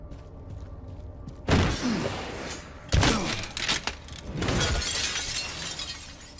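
Glass surfaces shattering in the video game Resident Evil Requiem: two loud crashing bursts of breaking glass with scattered tinkling debris, followed by further rumbling impacts and noisy clatter over a low background drone.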